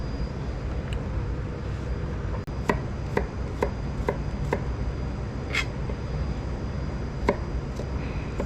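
A knife chopping frozen horse mackerel for sashimi, giving a string of sharp, distinct cuts at a steady, unhurried pace over a loud, constant low rumbling background.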